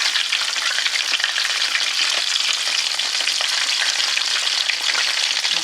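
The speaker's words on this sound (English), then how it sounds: "I'm going to go ahead and flip it. See how red they look?" Flamin' Hot Cheetos battered chicken pieces frying in hot oil, a loud, steady, close sizzle and crackle throughout with no voices.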